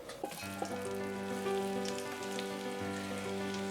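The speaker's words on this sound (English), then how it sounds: "The butter is all melted, so now we're going to add the onion." Chopped onions tumble into melted butter in a stew pot for Dutch hachee, setting off a steady, close sizzle and crackle that holds for several seconds, with faint clinks of utensils.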